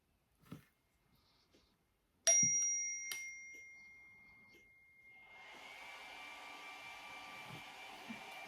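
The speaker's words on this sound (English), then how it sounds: "Sorry, my daughter's hair dryer's now went on." After a few clicks and a sharp clatter, a hair dryer starts up and settles into a steady, moderately loud whirring hum that continues to the end.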